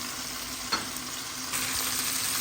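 Chopped onion and garlic sauté in a pan while being stirred, giving a dense, steady sizzle with one brief clack of a utensil partway through.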